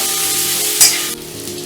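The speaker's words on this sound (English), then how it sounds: "Now I will add the broken cashew nuts and fry it for another 5 minutes." Onions and broken cashew nuts frying in a pan for paneer butter masala, a loud close hiss of sizzling oil with a brief sharper burst midway, then a slightly quieter steady fry.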